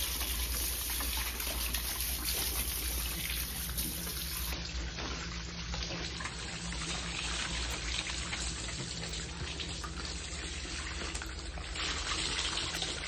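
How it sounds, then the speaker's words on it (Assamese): Water poured from a can tied in place for pigs to drink on a pig farm, a steady continuous splashing and trickling stream running throughout, loud and close with no pauses. "এতিয়া আমাৰ যিহেতু ৰানিং ৱাটাৰ কৰা নাই সেইকাৰণে কেন এটা বান্ধি এনেকৈ ধৰণে পানী"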